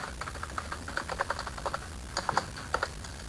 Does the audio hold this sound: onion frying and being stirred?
no